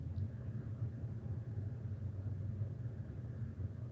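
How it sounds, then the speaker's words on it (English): A delivery truck rumbles outside, a steady low drone that holds evenly throughout, muffled and somewhat distant, with no talking. "I think I hear a delivery truck."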